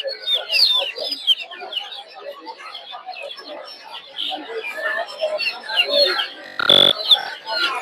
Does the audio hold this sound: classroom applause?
no